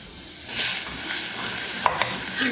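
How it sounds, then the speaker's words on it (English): Green onions being stirred in a pot while making Korean rice cake soup: soft scraping and a light sizzle, with two small sharp clicks of the utensil near the end. "So, stir it around."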